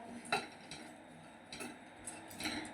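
Roasted gram being tipped into another cooking vessel gives scattered light clinks and rattling scrapes of metal utensils, a few quick bursts at close range against a quiet kitchen background.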